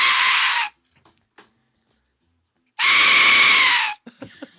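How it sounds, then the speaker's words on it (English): Two loud, piercing shrieks from an Aztec death whistle, each held for under a second and around a second, separated by quiet, like a human scream; faint voices and noises follow the second blast. "Can you give us a demonstration of that death whistle?"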